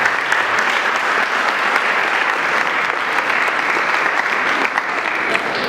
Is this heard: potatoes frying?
no